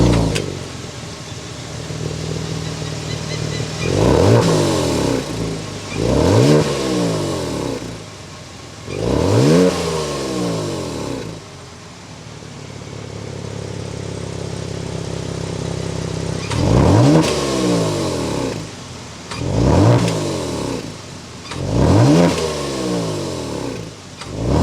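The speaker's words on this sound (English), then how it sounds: "Let's go inside this GT2 and hear that exhaust note." A 2022 Kia Stinger GT2 engine revs repeatedly, its exhaust note rising and falling in sharp bursts, a few grouped blips at first, a lull at idle, then another run of three revs, loud and close.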